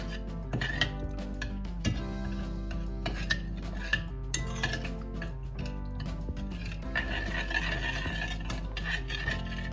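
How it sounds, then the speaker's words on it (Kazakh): Spoon working through a pot of melting butter mixture while making baursak dough, with steady scraping and stirring and the occasional clink of metal against the pot rim, close and fairly continuous. "Араластырамыз майымыз ергенше."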